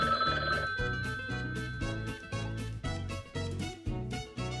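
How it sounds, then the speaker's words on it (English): A telephone rings repeatedly in a steady, loud pattern of bursts that fill the whole clip. No one speaks over it. "Answer your goddamn phone."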